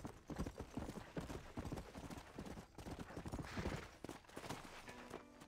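Horse hooves clip-clop steadily on the ground in the video game Red Dead Redemption, a close, rhythmic trotting that runs the whole time with faint ambient sound behind it.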